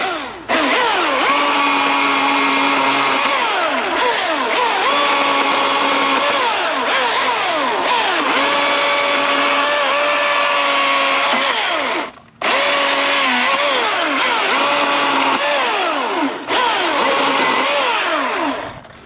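Milwaukee battery-powered pole saw and chainsaw cutting, a loud, close, high-pitched motor whine rising and falling through repeated cuts, with a brief stop near the middle and another dip late on.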